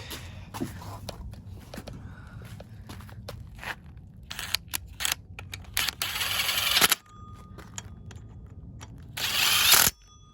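Pneumatic impact gun driving two 12mm bolts on a Toyota MR2 SW20 K-series engine swap project, heard as two loud rattling bursts, a longer one then a short one, amid quieter shop clatter.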